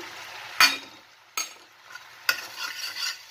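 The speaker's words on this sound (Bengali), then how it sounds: "আর ভালো করে মিক্স করে দিলাম" A spoon stirs brinjal gravy in a pan: three distinct scraping strokes, each followed by a soft sizzle, close and clear with no talking.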